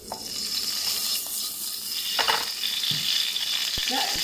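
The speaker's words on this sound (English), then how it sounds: "the last thing to cook is the egg omelette" An egg omelette frying in a small countertop cooking machine, a continuous soft sizzle at close range with a few light clicks and scrapes of a utensil.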